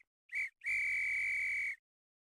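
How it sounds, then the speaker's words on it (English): A virtual agent whistles in a sound propagation simulation, giving a short clear tone and then a longer sustained whistle, loud and alone against silence. "The red agent draws the attention of the green agent by whistling from an appropriate vantage point."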